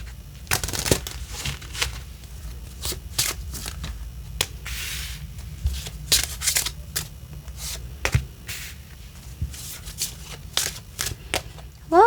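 Tarot cards being shuffled by hand in quick, irregular bursts of riffling and snapping, close and crisp against a quiet room, with brief pauses between handfuls.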